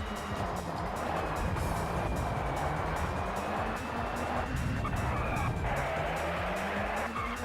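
Touring car racing in TOCA Touring Car Championship at Thruxton, a badly body-damaged car droning steadily at high revs with rising engine pitch and tyre squeal, loud and continuous with no talk.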